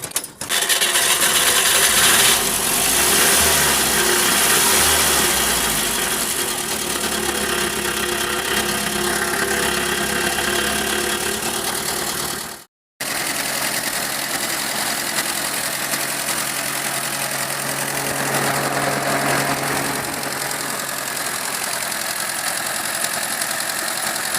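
A homemade mini tractor engine cranks and fires up, then settles into a steady, loud idle that runs close by; a brief dropout interrupts it partway before the idle carries on unchanged.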